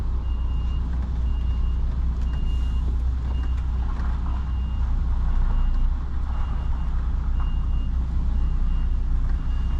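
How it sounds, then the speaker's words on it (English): Truck pulling a trailer reverses into a tight car park between walls, its repeating reversing beeper pulsing steadily over a loud, constant diesel engine rumble throughout. "I'm reversing into a car park now with a tight wall either side."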